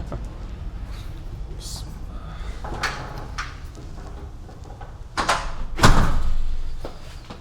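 Large front door of a villa in Dubai swings open or shut, with soft knocks and a heavier thud near the end over steady background noise and some voices.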